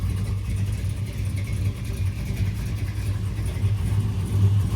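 A 1986 GMC Sierra truck with an LSX engine swap and Holley Terminator X Max control runs at a steady, deep idle. The low, loud rumble holds without pause and nobody speaks.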